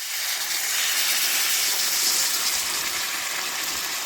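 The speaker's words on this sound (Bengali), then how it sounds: "এবারে দিয়ে দিচ্ছি পরিমাণ মতো জল" Water poured into a hot pan of potol chingri, a pointed gourd and prawn curry, giving a steady loud hiss and gushing sizzle that holds evenly for about four seconds with no talking.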